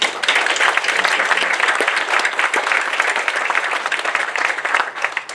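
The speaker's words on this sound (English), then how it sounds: "I think we owe everybody here a round of applause, right? Let's do that." Full, steady applause from the crowd at a hospital and medical center groundbreaking, loud and continuous for several seconds with no talk over it.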